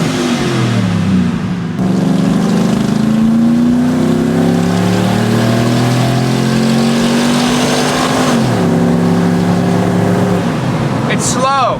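A supercharged truck engine revving loud and close, pitch rising through several gear changes with a sharp shift around the middle, a voice talking briefly over the roar.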